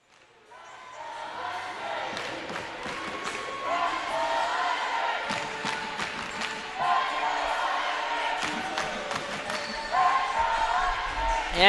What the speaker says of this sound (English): crowd cheering here in the Dugan Wellness Center